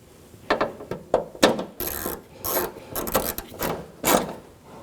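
Ratchet tightening a bolt on the trim of a 2013-2017 Honda Accord during a park assist camera install, a series of quick clicking bursts of mechanism noise, close and alone.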